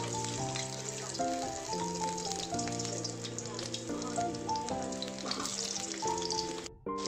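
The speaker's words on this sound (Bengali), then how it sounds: "এবার আমি এর মধ্যে 1-1টা করে আলু দিয়ে দেবো।" Potatoes are added one by one to hot oil and fry with a continuous crackling sizzle, partly masked by steady background music playing over it.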